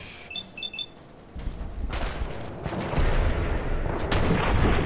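A few sharp Fallout 4 gunshots burst out, then a loud, sustained roar of rumbling fire and explosions fills the rest, with no talking.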